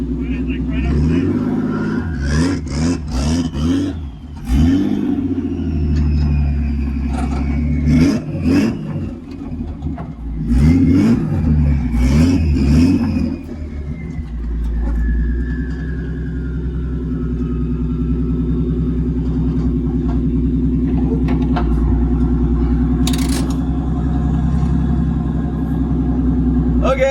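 A car engine revs and surges in short bursts as the car climbs onto a trailer, then settles into a steady close idle, with people talking over it throughout.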